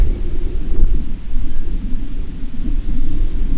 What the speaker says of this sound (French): Excusez-moi pour le vent, il y a du vent.